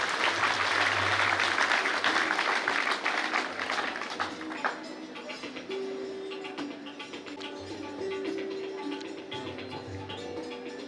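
An audience at a college lecture-series inauguration claps to welcome the guest speaker, a loud burst of applause that gradually thins into scattered claps and faint murmuring with a low hum beneath.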